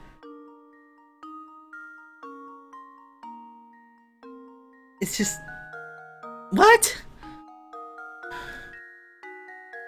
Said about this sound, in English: And that was my phone yelling at me.